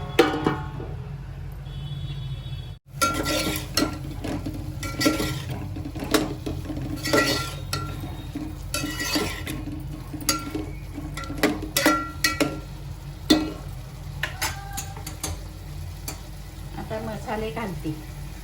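Pulao masala being stirred and sautéed in a pan, a steady run of scraping spoon strokes and light metal clinks over a soft sizzle, with a brief dropout early and voices talking now and then.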